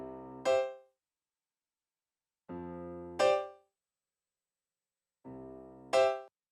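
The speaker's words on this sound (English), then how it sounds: "here's what the piano sounds like coming straight out of my keyboard" Dry digital piano sounding straight from a keyboard with only light EQ: three separate held chords, each followed by a brighter struck accent, with clean silence between them and no talking.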